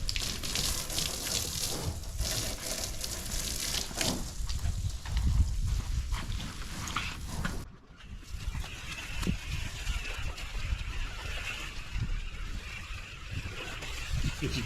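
A garden hose sprays water over a polished Cybertruck, a steady broadband hiss that runs throughout with a brief break midway, fairly close and alone.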